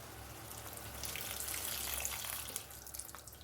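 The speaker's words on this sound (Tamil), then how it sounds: "இப்போ நம்ம கரைச்சி வச்சுருக்கிற புளியை இதில் சேர்த்துடலாம்." Dissolved tamarind water poured into a cooking yellow pumpkin curry gives a steady, moderately loud liquid splashing and trickling that swells in the middle and tapers toward the end, with no talking.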